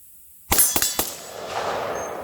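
Three rapid gunshots from a .350 AR-15 rifle firing full-power deer hunting loads, sharp cracks packed within half a second and followed by a lingering outdoor ring and wind noise; no voices.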